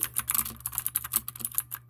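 Fingers typing on a computer keyboard, a quick, uneven run of close, crisp key clicks with no voice.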